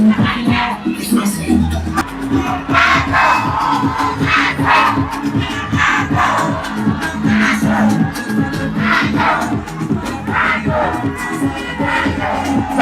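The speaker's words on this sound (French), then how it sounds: "Regardez, la foule est sortie pour Alassane Ouattara." A large crowd at a political campaign rally in Adjamé cheers and shouts in loud, continuous waves, with rhythmic bursts of chanting filling the whole stretch.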